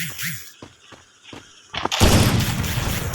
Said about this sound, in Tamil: இப்போ பாருங்க ஸ்னைப்பர் ஹெட்ஷாட் மட்டும் பண்ணுங்க கைஸ்